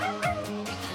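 A dog gives a few quick, yipping barks close by, short and high-pitched, in a rapid burst.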